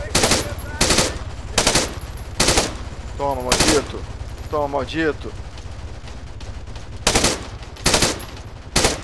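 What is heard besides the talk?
machine gun fire with tracer rounds, from video game Arma 3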